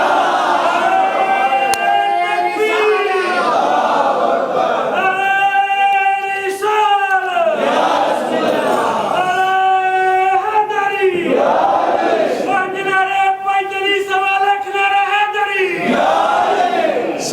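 A large crowd at a religious address chants a slogan in loud, rhythmic repeated call-and-response bursts, many voices in unison, near and strong.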